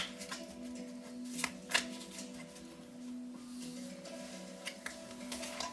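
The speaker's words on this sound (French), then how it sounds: "Je vais couper parce que j'ai déjà bien mélangé." Oracle cards handled and shuffled close by, with soft sliding rustles and a few sharper snaps, quiet over faint background music, no speech.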